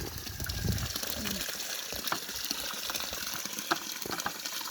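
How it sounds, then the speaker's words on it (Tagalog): Water gushes steadily into a container, a continuous splashing rush with occasional louder splashes. "Nagsawd pa kong tubig. Dira o. Yan ay hapit na mapuno."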